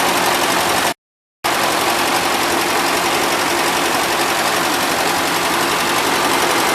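A 1977 Gravely GMT 900 tractor engine runs steadily and loudly nearby on old gasoline, a continuous rough mechanical drone with one brief dropout early on.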